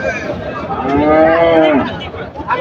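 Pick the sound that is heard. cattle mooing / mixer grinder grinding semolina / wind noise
cattle mooing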